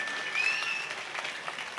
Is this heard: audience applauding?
yes